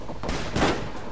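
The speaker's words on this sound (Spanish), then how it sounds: "Ya me ha visto y me está disparando." Enemy gunfire in Fallout New Vegas, a quick cluster of loud, close shots in about a second, with one sharper burst near the middle.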